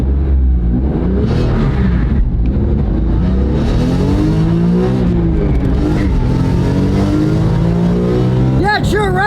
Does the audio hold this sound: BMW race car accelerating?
yes